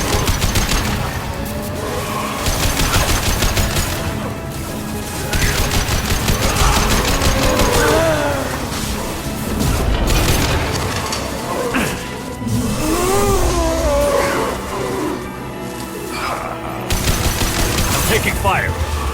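Rapid bursts of gunfire crackle through a Mass Effect 2 firefight, repeated volleys and machine-gun rattles over rumbling impacts, with voices calling out amid the combat.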